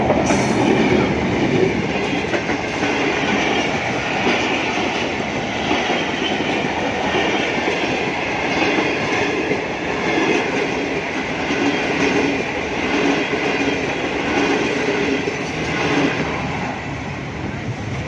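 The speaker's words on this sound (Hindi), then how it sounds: "लोग इंतज़ार कर रहे हैं ट्रेन के आने का। ट्रेन की आमद है जी" A train rolls past the Deora railway crossing in Gujranwala, a loud, steady rumble of wagons with faint wheel clatter sustained throughout, close by and with no talk.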